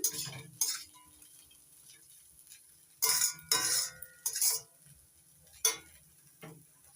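A spoon stirring chira polao ingredients with sugar in a pan, heard as short scraping clinks and clatters in irregular bursts, separated by near-quiet gaps with only a faint background hum.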